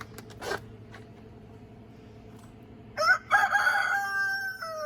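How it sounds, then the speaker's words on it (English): A rooster crows loudly and long after a few scattered squawks and clatters, the crow stretching out over the last two seconds. "I heard all kinds of horrible squawking and singing."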